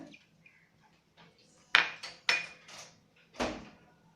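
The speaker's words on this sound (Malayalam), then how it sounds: "ഇതെല്ലാം ഒരു വലിയ ബൗളിലിട്ട് നമുക്ക് മിക്സ് ചെയ്തെടുക്കാം." Ingredients for banana flower vada being mixed by hand in a large bowl: a few sharp knocks and clatters against the bowl with soft rustling between, close and fairly quiet, no talking.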